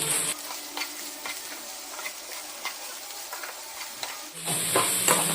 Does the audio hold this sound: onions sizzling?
yes